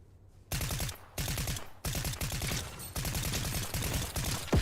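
A deployed turret in a shooter video game fires rapid automatic bursts, dense machine-gun rattles repeating in several long volleys with brief gaps between them, loud and continuous.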